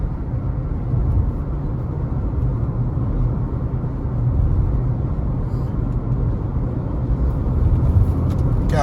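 A truck engine on the road ahead in Jamaica heard from inside a following vehicle: a steady, loud low rumble of road and motor noise that continues without a break.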